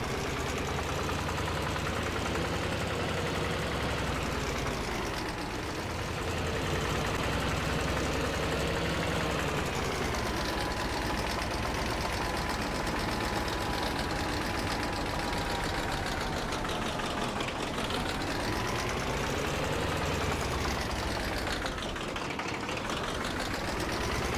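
A tractor engine in Farming Simulator 25, running continuously and close with a steady harmonic drone whose pitch rises and sags slowly as the load changes, with no talk.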